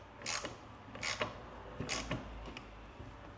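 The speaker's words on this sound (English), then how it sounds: "I'm going to use this as a crank uninstaller. And so what I'm going to do is just push" A crankshaft is pushed out of a Suzuki DRZ400SM engine with a crank remover tool during a rebuild, giving a few spaced mechanical creaks and clicks, close and moderately loud, with no talk.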